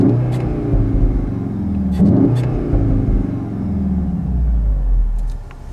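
CUPRA Formentor 2.0 TSI 310 4Drive with DSG, 2020, running in Sport mode: a deep, steady exhaust rumble with swelling and easing engine drone inside the cabin, fairly loud and close, with no talking.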